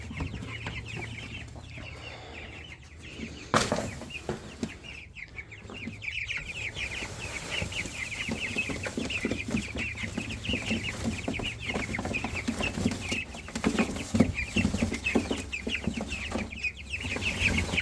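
Two-week-old Jumbo Cornish Cross meat chicks in a brooder, a steady chorus of soft peeping and clucking running throughout, fairly close, with occasional sharper bumps and rustles.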